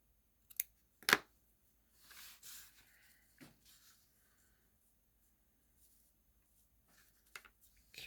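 Scissors snipping paper card stock during junk journal crafting, a few short sharp cuts near the start followed by soft rustling handling of paper, then quiet with a couple of faint taps near the end.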